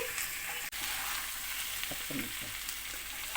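Chicken frying in oil in a pan gives a steady, dense sizzle throughout, with a few soft stirring knocks near the middle and no voices.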